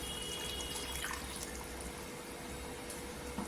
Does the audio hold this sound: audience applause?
no